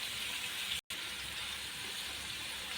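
Cumin seeds and asafoetida crackling in hot oil for samosa roll filling, a loud continuous hiss with a brief dropout near the start.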